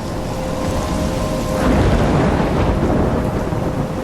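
Heavy rain pours steadily in a Life is Strange thunderstorm, with low thunder rolling and building toward the middle and a dense, loud wash throughout, no talking.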